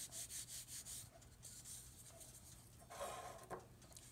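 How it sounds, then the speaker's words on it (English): Flour is rubbed onto a rolling pin while baking biscuits, giving a soft, close rhythmic brushing and rubbing with several quick strokes at first, then quieter scuffing, with no talking. "I'm going to take a little bit more flour and rub it on my rolling pin"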